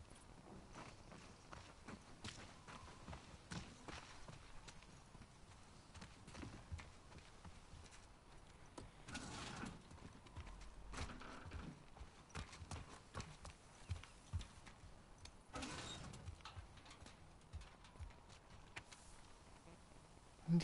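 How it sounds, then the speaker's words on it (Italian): Horse hooves walking in the video game The Last of Us Part II, a steady clip-clop of footsteps that is quiet and slightly distant, with faint ambient game noise around it. "Sta andando quel cavallo, stai fermo."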